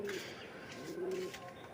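A pigeon at a pigeon sale coos in two soft, sustained notes over a steady background hum.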